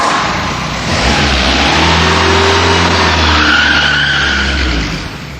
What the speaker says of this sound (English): He's off in that new car again.